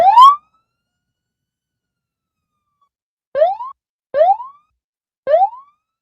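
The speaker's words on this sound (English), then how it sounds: "Whoop, whoop, that's the sound of the police." A rising whoop siren sounds once, then after a pause three more short upward whoops follow in a steady rhythm, loud and close with no talking.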